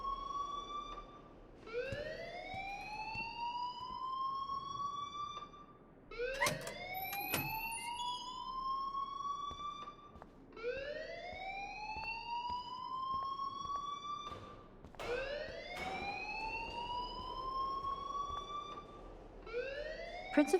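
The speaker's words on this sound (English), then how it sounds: "please turn off that alarm since that's your job" A rising, wailing electronic alarm sweeps upward over and over in the Life is Strange video game, each sweep lasting a few seconds and repeating steadily at a moderate level.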